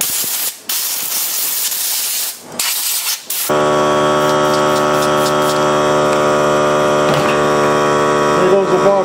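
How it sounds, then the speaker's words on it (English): An air compressor nozzle blows out a vintage JR Heli Division remote control with a loud, steady hiss of air and a droning tone. Short bursts come first, then one continuous blast runs to the end. "You go get the air compressor. Let's blow this out."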